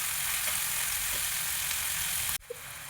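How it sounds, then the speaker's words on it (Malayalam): Anchovies (netholi) frying in hot coconut oil in a pan, Kerala style: a steady, loud broadband sizzle that fills most of the stretch, then cuts out abruptly near the end, leaving a brief quiet with a faint clink. "അതിന് ശേഷം സിമ്മിൽ വെച്ചതിന് ശേഷം മീനുകളൊക്കെ ഇട്ട് കൊടുക്കുക"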